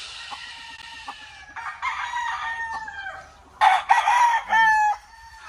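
A Stuart yellow-legged hatch rooster at a game farm crows nearby in a few loud, strained bursts, with clucks and shorter calls between them and no talk over the sounds.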